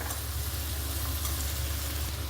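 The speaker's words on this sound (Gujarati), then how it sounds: "આપણે એમાં ઝીણા સમારેલા લીલા મરચાં અને ઝીણી સમારેલી ડુંગળી નાખી દઈશું" Finely chopped green chillies and onions fry on a high flame in hot oil, giving a loud, dense, steady sizzle up close with no pauses and no talk.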